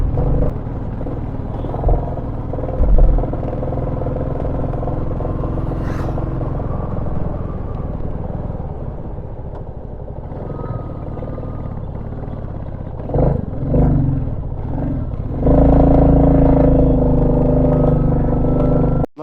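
A Royal Enfield Classic 350 Next-Gen motorcycle rides at steady speed until its fuel runs dry, a continuous low engine rumble mixed with wind roar, heard up close for the whole stretch.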